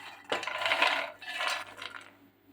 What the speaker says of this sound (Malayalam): നമുക്ക് ഇതിലേക്ക് നമ്മൾ റോസ്റ്റ് ചെയ്ത മക്കാന ഇട്ട് കൊടുക്കാം